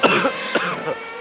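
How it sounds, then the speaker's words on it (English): Three short, harsh coughs in quick succession, close and fairly loud, with no talking. "How loud is my coughing, by the way?"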